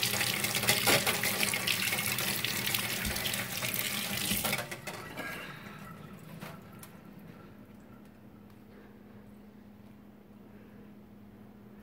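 Tap water runs at a sink as apples are washed, a steady close rush for about five seconds that then cuts off, leaving a quieter room.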